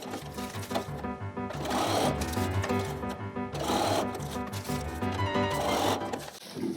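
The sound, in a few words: sewing machine chain-sewing quilt pieces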